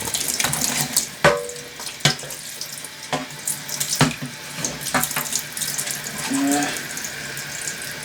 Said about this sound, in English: I'm now just going to rinse all the bubbles off of it and whatnot.